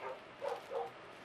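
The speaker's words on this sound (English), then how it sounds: "If you hear Luna barking, I'm sorry." A dog barks a few times in short, faint yips, somewhere off in the room, with quiet background hiss between them.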